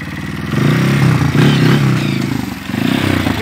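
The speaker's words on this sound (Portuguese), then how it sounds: "Era a moto." Dirt motorcycle engine on a trail ride with friends, loud and close, its revs rising and falling in rough surges with clattering and scraping over the terrain.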